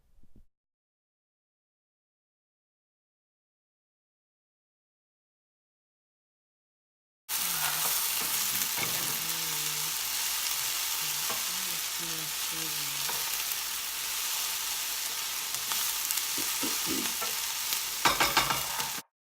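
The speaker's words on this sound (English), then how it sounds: "we have our veggies sweating down, so we are going to let them do their thing" Chopped vegetables for vegan chili sweat down in a pot with a soft, steady sizzle and faint crackles. Silence comes first, then the cooking noise runs evenly for about twelve seconds, closing with a few louder clatters.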